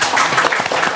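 A brief burst of applause from a small audience at a spoken tongue-twister contest, dense close clapping lasting about a second.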